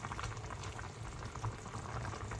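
Chicken simmering and boiling in water in a covered pan on the stove while frying, a steady bubbling and sizzling wash close by with no talking.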